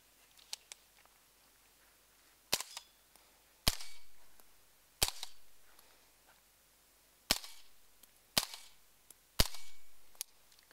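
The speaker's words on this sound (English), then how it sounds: "You're gonna fire 2 or 3 rounds on the left plate, 2 or 3 rounds on the right plate, just to get a feel for the gun, the ammunition." Simunition training rounds fire at steel plate targets, giving about half a dozen sharp, loud cracks at uneven intervals, each with a short ringing tail, plus a few fainter ticks between them.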